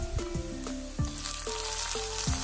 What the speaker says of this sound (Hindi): प्याज को डालने के बाद अब आपने इसको सॉटे करना है।